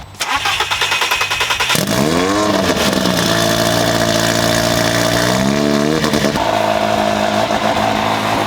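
A one-of-one Camaro rally car on a test drive, its engine loud and close, firing up and revving hard, then pulling through sustained rising gears with a rough, aggressive drone.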